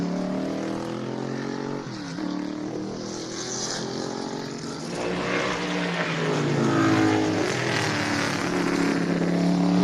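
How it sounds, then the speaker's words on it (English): Race cars, including a 1973 Corvette, circling the track at the American Speed Festival, a rising and falling engine drone with passing pitch sweeps that grows louder toward the end, heard at moderate distance. "watch and listen to these cars thunder on this track"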